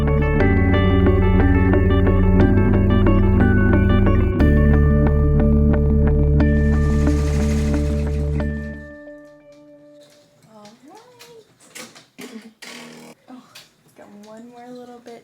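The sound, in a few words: embroidery machine stitching out a flag monogram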